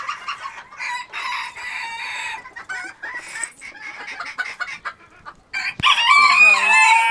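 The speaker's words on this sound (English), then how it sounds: "so they can see the chickens" Hens cluck and squawk close by in a busy, overlapping chorus inside a dusty coop, with a sharper burst of calls near the end.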